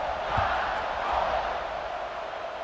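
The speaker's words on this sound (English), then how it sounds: "this crowd is buzzing after that last score." Stadium crowd noise from EA Sports College Football 26, a steady, dense buzz of many voices filling a college football stadium after a score, with a few louder cheers and whoops rising briefly near the start.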